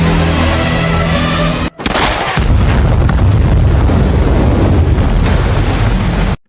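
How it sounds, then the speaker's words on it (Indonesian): A thrown bomb in an action film detonates in a massive blast: a sharp cut of silence, then a loud, sustained roaring boom with crackling debris that fills the remaining seconds. "melempar bom tersebut ke arah Jalal, lalu menembaknya, yang membuat ledakan yang sangat besar di sana"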